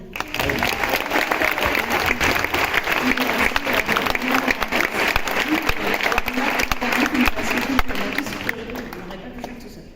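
An audience at the Grand Rex applauds in a sustained, loud roar of clapping before a concert screening, with a voice heard in the crowd and the applause tapering off at the end.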